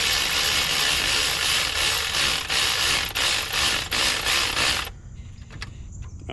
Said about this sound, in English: put your socket on it, break it loose